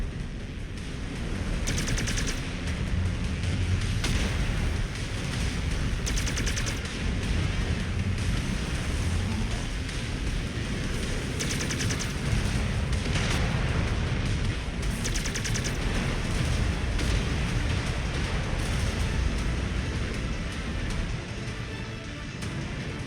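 BattleMech weapons in MechWarrior 5 fire through a dense, continuous roar of heavy battle noise, with repeated sharp bursts of shots layered over the rumble for over twenty seconds.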